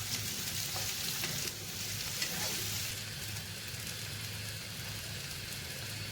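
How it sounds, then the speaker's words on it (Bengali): Chopped onions frying in oil in a pan for a Bengali egg and potato curry, a steady close sizzle with crackling throughout, continuous and fairly loud without pauses. "তেলে ভেজে নেব।"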